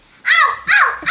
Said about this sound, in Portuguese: Late pra ela, au.